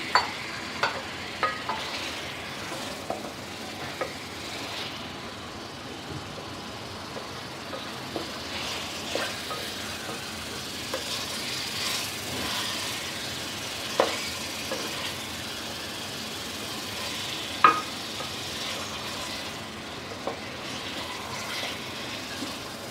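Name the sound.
chicken frying with chili paste in a pan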